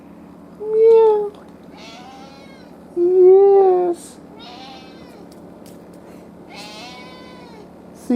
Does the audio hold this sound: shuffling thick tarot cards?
no